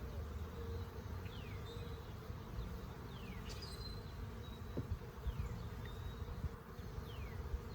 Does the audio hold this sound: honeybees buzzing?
yes